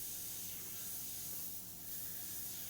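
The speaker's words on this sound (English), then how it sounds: "Utilize the airbrush as well." An airbrush sprays paint in a steady, close, hissing stream that barely dips for a moment before continuing, with no talking.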